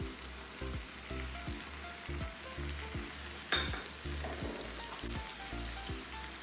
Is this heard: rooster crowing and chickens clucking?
no